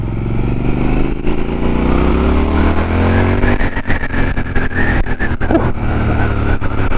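A Triumph Scrambler 1200 XE motorcycle, about 89 horsepower, rides through English countryside. Its engine drones loud and steady throughout, with a low grunt and rising revs partway through, and no voices are heard.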